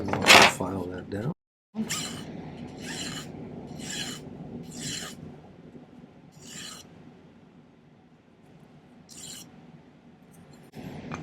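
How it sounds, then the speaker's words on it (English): A hand file rasps on a silver prong setting in a string of short, regular strokes, close and fairly quiet over a low background hum, with a brief burst of sound at the start. "Just cut it off there and we'll file that down."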